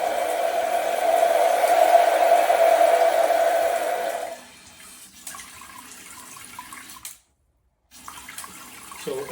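Bidet toilet seat spraying water in its washing cycle: a steady, fairly loud hissing spray for about four seconds, then a quieter running trickle, a brief silence, and faint residual water sounds.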